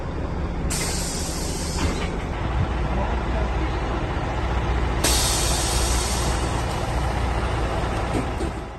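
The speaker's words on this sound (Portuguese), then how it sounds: "Porta fechando." A bus door closing with loud bursts of air brake hiss, two broadband blasts over steady engine rumble, close and continuous.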